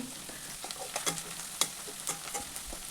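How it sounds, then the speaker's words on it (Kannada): Garlic, green chillies and onion frying in oil while being stirred, a quiet close sizzle broken by crisp crackles and spatula scrapes at an uneven rhythm. "ಬೆಳ್ಳುಳ್ಳಿ, ಹಸಿಮೆಣ್ಸಿನ್ಕಾಯಿ, ಈರುಳ್ಳಿ ಇವೆಲ್ಲ ಎಣ್ಣೆಯಲ್ಲಿ ಚೆನ್ನಾಗಿ ಬೇಯಿಸ್ಕೊಬೇಕು."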